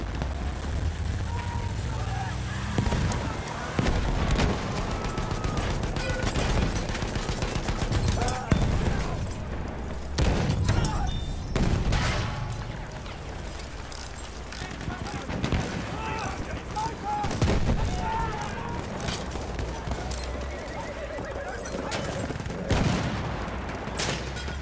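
Battlefield 1 machine gun fire crackles in repeated bursts amid a dense in-game battle, with shouted voices and other clatter running over it for most of the stretch.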